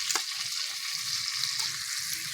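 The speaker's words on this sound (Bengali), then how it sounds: "রসুনটাকে একটু হালকা করে ভেজে নেব।" Chopped garlic fries in butter in a small wok, a steady bright sizzle with soft stirring scrapes and light clinks, close and continuous, with no talk.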